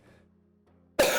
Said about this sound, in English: Had a cough there.